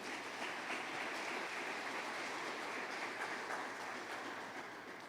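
A church congregation applauds in a continuous, even patter of clapping that sounds somewhat distant and muffled, holding steady and then tapering slightly at the end.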